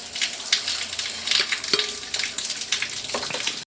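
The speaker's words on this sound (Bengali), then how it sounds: "অন্যদিকে কড়াইতে আমি বাকি সবজিগুলো ভেজে নেব।" Vegetables frying in a kadai for Medinipur-style shukto, giving a steady close sizzle with scattered crackles and a few soft stirring clicks, ending abruptly in a brief cut near the end.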